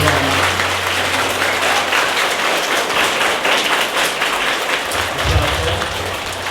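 Sustained applause from an audience at a Polish national primary-school anthem competition, honouring the school headmistress; steady, dense clapping fills the whole stretch at even loudness with a low hum beneath.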